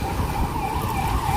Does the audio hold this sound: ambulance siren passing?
yes